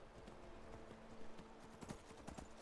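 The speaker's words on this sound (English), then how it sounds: "We're on the horse now" A horse's hooves clip-clop in a steady rhythmic gait while riding in the video game Skyrim, faint and even, with no talking over them.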